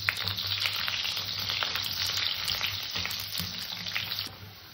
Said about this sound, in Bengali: আমি আলু কটাকেও ভালো করে ভেজে নিয়েছি